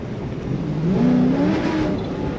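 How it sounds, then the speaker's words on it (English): A 2012 Chevrolet Corvette Grand Sport 3LT coupe accelerates hard with its tires breaking loose. The engine note climbs loud and close for a couple of seconds, with no talking. "I pushed the throttle a little too hard and broke the tires loose"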